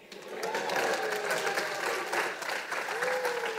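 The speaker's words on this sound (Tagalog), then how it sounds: "angas ng crowd reaction, no? Putang na palakpak" A crowd at a rap battle breaks into loud applause and cheering, steady clapping with shouted reactions rising quickly and holding for several seconds.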